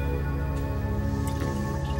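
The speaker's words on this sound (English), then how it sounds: "The magician pours the water into the mug." Water pours steadily into a mug, a continuous close-up gurgling splash with a faint rising ring as it fills.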